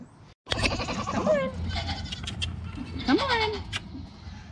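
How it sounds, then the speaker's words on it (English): Baby Nigerian Dwarf milk goats bleat close by, giving several high wavering cries over a few seconds while people talk nearby. "These little baby goats just come right up to you."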